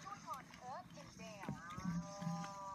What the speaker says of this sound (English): Milking cows are really fun.